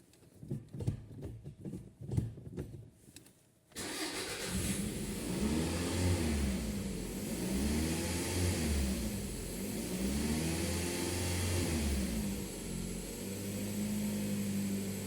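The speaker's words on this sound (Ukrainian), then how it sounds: "Автомобіль пару раз погазував" After a few seconds of quieter, choppy sound, a Toyota RAV4 engine with an unstable, stalling idle starts up and revs repeatedly in rising, falling surges, loud and close.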